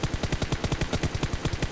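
Rapid automatic gunfire in the mobile battle-royale game PUBG Mobile, a fast, evenly spaced burst of loud sharp shots filling the short stretch without pause.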